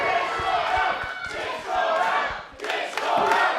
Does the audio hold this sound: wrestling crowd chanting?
yes